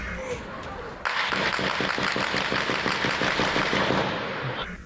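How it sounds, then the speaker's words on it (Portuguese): Rapid bursts of gunfire crackle in a fast, sustained rattle at a distance, preceded by a scattered pop or two, during a gang shootout at night. "Rajadas de tiros por toda parte."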